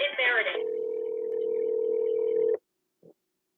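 A touch-tone telephone key, the star key, is pressed during a call, giving a steady electronic tone of about two seconds after a brief burst, followed by short faint beeps; a voice is heard at the start.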